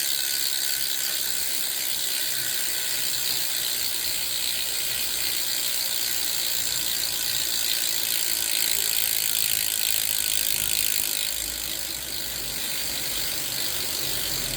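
A Token 45R bicycle hub spins freely, its freewheel ratchet buzzing in a fast, continuous, even clicking that holds close and steady for the whole stretch.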